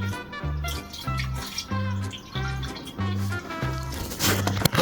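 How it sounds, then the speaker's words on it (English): Water is poured to fill a £350 Fiat 500 under repair, a steady splashing wash with a pulsing low rhythm repeating about every half second, close and continuous. "Fill this up with water."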